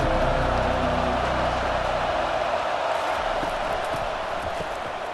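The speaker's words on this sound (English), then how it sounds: "Listen to this crowd just shaking the girders of this place, trying to help their defense." Stadium crowd roaring in a college football video game, Washington versus Penn State, a loud continuous wash of cheering and noise filling the whole stretch without letup, slightly fading toward the end.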